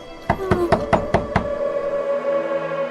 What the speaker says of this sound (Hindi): तभी उनके कमरे के दरवाजे पर कोई दस्तक देता है